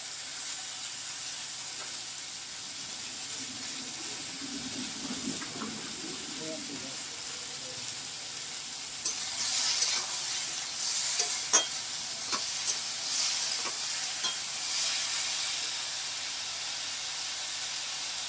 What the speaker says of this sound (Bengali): ঝিঙে আর আলু ভাজা হয়ে গেছে